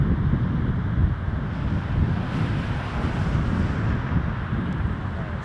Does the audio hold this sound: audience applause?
no